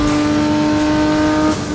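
A BMW race car in the M Performance Parts Racing Series sounds loud and close, engine holding a steady high drone as it accelerates into a chicane, then easing slightly near the end.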